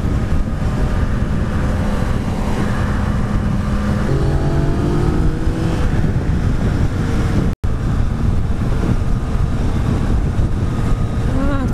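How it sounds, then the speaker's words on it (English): A Yamaha XSR900 motorcycle accelerates on a test ride, its engine note rising through the gears beneath heavy, constant wind roar against the microphone. "on those lower gears, on the lower RPM spectrum, damn, this thing pulls"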